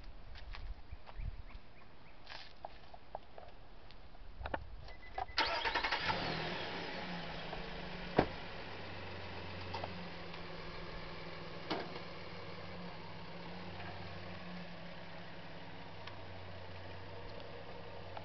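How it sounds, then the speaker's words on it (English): A 2019 Nissan Frontier SV Crew Cab with the 4.0 engine cranks after a few quiet clicks and catches with a surge, then settles into a steady, low idle that continues to the end. "Let me just fire it up so you can hear the"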